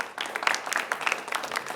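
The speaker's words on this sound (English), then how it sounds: "Those are our students from Clark. Give them a round of applause." A student audience at a varsity quiz event applauds for the Clark team, giving a scattered round of clapping with distinct individual claps, moderately loud in a room.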